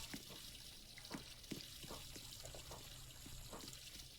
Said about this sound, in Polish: Kto marnuje tak wodę?